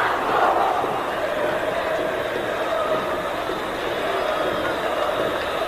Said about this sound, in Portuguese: Torcida do Vasco responde.